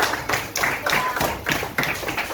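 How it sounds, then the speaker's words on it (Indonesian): An audience claps hands in a small group, a quick series of bright, uneven claps lasting a couple of seconds, close and fairly loud. "Oke, tepuk tangan."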